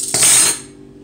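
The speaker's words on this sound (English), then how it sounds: "Got me some more spoons." Metal spoons clinking and rattling together in one short bright jangle at a kitchen counter, close and loud, fading quickly.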